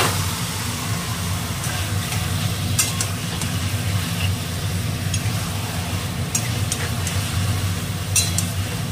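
Marinated chicken drops into spiced oil in a home kitchen pan, giving a steady, close sizzle with scraping stir strokes over a low continuous background hum; no one speaks.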